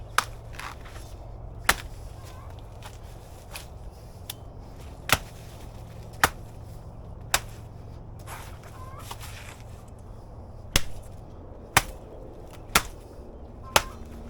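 Banana plant stalk being chopped into chunks after harvest, a series of sharp, separate thwacks at irregular intervals of a second or two, close and distinct over a quiet outdoor background.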